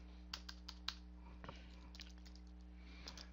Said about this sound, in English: I want to show you while I am typing